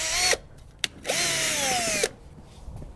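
A power drill whines loud and close in two bursts, with a short click between, as it backs Phillips screws out of a Jeep WJ seat.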